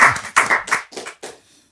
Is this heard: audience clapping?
yes